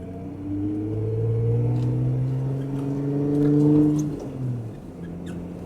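Jeep engine running in four-wheel drive, a steady droning hum that climbs in pitch as it accelerates, then drops off and settles, moderately loud and close.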